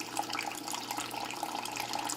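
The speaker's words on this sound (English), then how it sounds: "it started filling water when it was at 16 ounces" Water runs steadily from a tap into a four-cup container, a continuous close splashing rush that fills the whole moment without pause.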